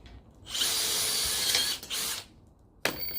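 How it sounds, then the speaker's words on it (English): A power drill bores a pilot hole for a glass sliding door's cover track, in a close, loud whirring burst that cuts off, then a short second burst and a brief final spin. "Just start by drilling a pilot hole here."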